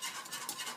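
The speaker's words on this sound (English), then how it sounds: "Just keep on whisking it, keep on whisking it." A whisk stirs a yogurt and chickpea flour batter for Gujarati kadhi, giving a steady, soft, wet swishing that runs briefly and continuously.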